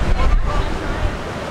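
Ocean surf carries up to a beachside balcony in Myrtle Beach, a steady broad wash of waves mixed with gusty wind buffeting the microphone, loud and continuous.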